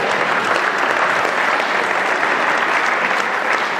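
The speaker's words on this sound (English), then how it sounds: "round of applause" Steady, loud applause from a podcast studio audience fills the whole stretch, dense and continuous with no voices rising above it.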